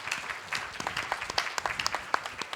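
Audience at a youth leaders summit ceremony giving a round of applause after team presentations, a sparse, fairly faint patter of individual claps heard from a distance in a large room.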